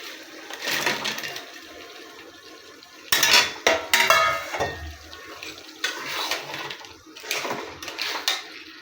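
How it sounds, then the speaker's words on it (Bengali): Fried crab goes into a pan of spiced sauce and is stirred, with bursts of metal utensil scraping and clanking against the pan and wet, splashy movement between quieter pauses. "এখন আমি দিয়ে দিব এই যে ভাজা কাঁকড়া।"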